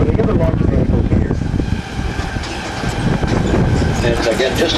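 A tour tram at a NASA space center rolls along with a loud, steady rumble and rattling wheel clatter, heard up close throughout with a brief dip midway.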